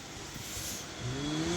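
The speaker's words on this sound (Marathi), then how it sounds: "ही गाडी गेली बघा" A car passes along a main road near Sangola in rainy weather, its engine tone rising and sliding past in the second half over steady outdoor background noise, fairly faint and without talk.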